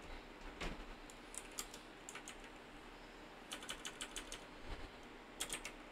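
Quiet keystrokes on a computer keyboard typing a short Linux command in Debian 11, scattered soft clicks in small bursts over a faint background hiss.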